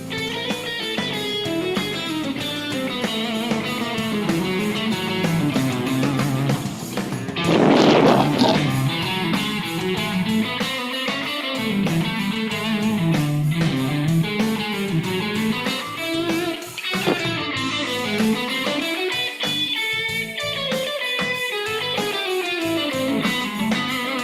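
A guitar plays flowing chromatic melodic minor lines over a dense, steady backing track, the notes continuous and prominent throughout with a brief noisy burst partway through.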